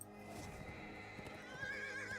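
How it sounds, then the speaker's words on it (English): A horse in the video game Tales of Caully gives a faint whinny over soft clip-clopping hooves and a steady background hum, with no talk. "Getting back on our horse."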